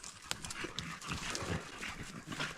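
Dogs panting close by in a highland forest clearing after running, quick rhythmic breaths mixed with scuffling movement and paws shuffling, no talking.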